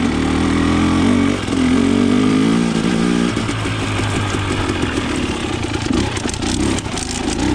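A KTM 300 XC TPI two-stroke dirt bike fitted with a TSP low-compression head insert rides slowly in third gear on tight terrain, its engine close and loud, burbling steadily with small throttle swells and no talk.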